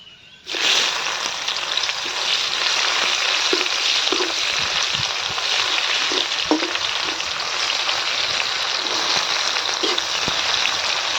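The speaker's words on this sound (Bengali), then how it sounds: "ওই তেলের মধ্যে কেটে রাখা পেঁয়াজ কুচি দিয়ে দেবো" Chopped onions and a bay leaf frying in hot oil for a Bengali sarputi fish curry, a steady loud sizzle that starts abruptly and continues evenly, with occasional faint stirring clicks.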